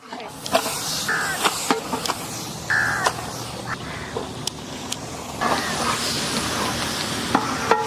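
Chicken pieces go into a large vessel of frying biryani masala gravy, bringing loud close sizzling with stirring and scraping clatter, while a voice talks and birds call in the background.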